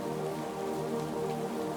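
Steady, even rain falls throughout at a constant low level, with no breaks, under a sustained tonal drone.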